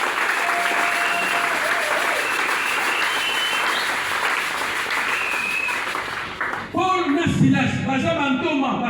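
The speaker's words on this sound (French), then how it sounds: "Acclamons si vous avez compris." A church congregation at a Sunday service applauds in a dense, sustained wash of clapping that fades near the end as a voice and louder sound take over.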